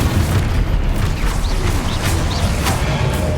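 A blasting-spell explosion in the Hogwarts Legacy video game, a dense, booming rumble with scattered crackles and small whooshing bursts over about three seconds.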